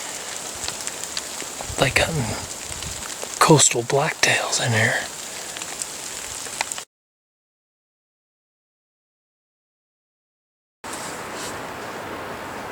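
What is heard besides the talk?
heavy rain falling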